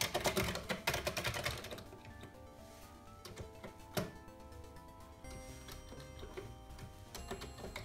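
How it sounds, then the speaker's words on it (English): Keys clatter on a Commodore 64 computer keyboard in quick irregular bursts, with single clicks and short runs of strokes, close and moderately loud over a faint background hum. "The keyboard seems to work."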